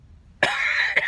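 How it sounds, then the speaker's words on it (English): A person coughs once, sharply and close, inside a Walmart store, followed by a brief second catch of the throat after a quiet start. "I'm coughing and coughing and coughing"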